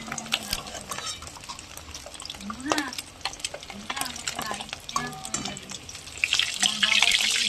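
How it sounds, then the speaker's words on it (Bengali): Food fries in a wok until lightly browned, a steady sizzle broken by repeated scrapes and stirs of a utensil against the pan, with talk faintly in the background. "হালকা লাল করে ভেজে তুলে নেব।"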